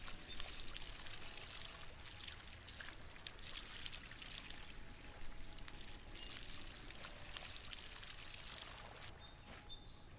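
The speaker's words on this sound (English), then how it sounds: "Okay, and then let's water some things." Plants get watered in Solarpunk, a soft continuous pouring and splashing like water from a can, faint and steady for the whole stretch, ending with a slight change near the close.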